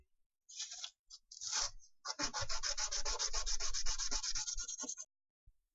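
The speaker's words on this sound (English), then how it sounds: "I'm going to go ahead and sand this down so it sits nice and flat" Leftover resin is sanded off a miniature's base to make it sit flat: a few short scratchy strokes, then about three seconds of rapid, rhythmic back-and-forth rubbing, close and clear, ending abruptly.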